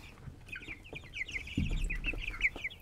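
Chickens at a rooster sanctuary cluck in a continuous, quick chattering series, fairly close, with a low thump and soft rustling partway through; no one speaks.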